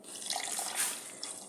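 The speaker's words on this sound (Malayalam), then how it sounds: "കവർ പാൽ നമ്മൾ ഒഴിച്ചുകൊണ്ടിരിക്കുകയാണ് ഗൈസ്" Packet milk pours into a blender jar, a brief, soft, close trickle of liquid lasting about a second and a half.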